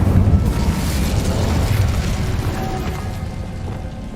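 Incendio fire spell blasting in a video game, a loud deep whooshing roar that swells and rumbles for several seconds before slowly easing off.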